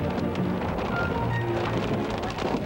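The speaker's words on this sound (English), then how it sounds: "The rain and hail pick up again." Heavy rain and hail pound steadily on a vehicle during a storm chase with tornadoes nearby, a dense, continuous close roar with no speech.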